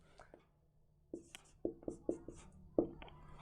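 Chalk or marker taps and short strokes on a board during a maths lesson on lines and angles, a few sharp close knocks in an irregular rhythm, fairly faint.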